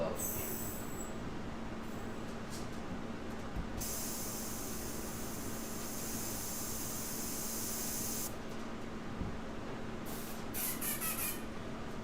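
Airbrush spraying on compressor air pressure, a steady close hiss that swells louder for several seconds in the middle, with a constant low compressor hum underneath.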